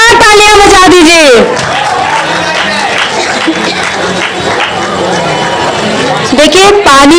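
Applause and cheering from an audience at a live Hindi comedy kavi sammelan poetry gathering sweep through the middle of the clip, with loud voices speaking over the start and the end.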